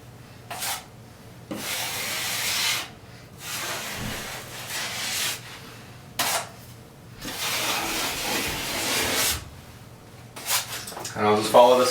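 A drywall knife scrapes and smears joint compound into an inside wall corner, making long rasping strokes separated by short pauses, close and moderately loud.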